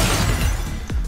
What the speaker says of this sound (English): I like the glass shattering sounds.